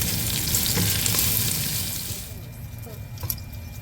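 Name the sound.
bacon frying in a pot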